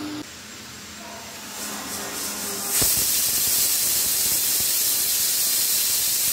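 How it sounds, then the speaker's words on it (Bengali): A stovetop pressure cooker holding jute leaf and lentil patoori bursts into a loud, sustained hiss of escaping steam that continues steadily to the end. "এবারে আমি প্রেসার কুকার বসিয়ে দিলাম।"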